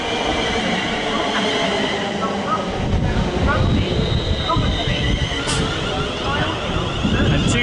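London Northwestern service to Birmingham New Street, unit 350-119, on the Abbey Line, a community rail line: a loud, steady rumble of a passing train with faint squealing wheels, continuous through the clip, with a voice speaking over it.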